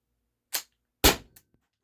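A single sharp, loud HDR68 pistol shot with a brief crack and quick decay, followed by a faint metallic clink and small rattle, outdoors in a backyard with no talking.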